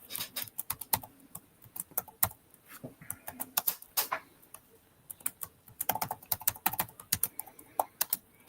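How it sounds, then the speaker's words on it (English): Rapid clicking of typing on a computer keyboard, close and quiet, in uneven bursts with brief pauses. "Just type it right here."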